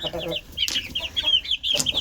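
Several hens cluck and chirp in quick, uneven bursts at close range, a soft murmur at the start giving way to repeated high clucks.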